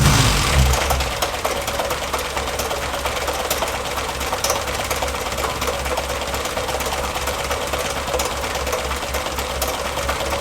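A Morris Minor engine fitted with electronic ignition catching and settling into a steady, rapid idle, loud and close with an even mechanical ticking rhythm.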